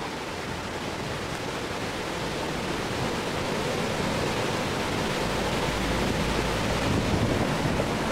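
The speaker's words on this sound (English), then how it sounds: "Flows down here, and then heads over a waterfall." Water coming out of a rail line tunnel flows down a channel and over a small waterfall in a wooded valley, a steady, broad rushing wash that holds constant and grows slightly stronger throughout.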